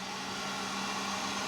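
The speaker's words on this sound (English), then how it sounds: "you can hear the motor run a lot quicker. Yeah, now it's like a full-on hairdryer" Fan motor of an IKAWA home coffee roaster running fast to blow air and cool freshly roasted beans, a steady, close, hair-dryer-like whoosh with no speech.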